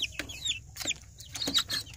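Joper chickens, a native-cross breed kept with hens and newly hatched chicks, cluck in soft, scattered calls close by against a quiet background, with no voices.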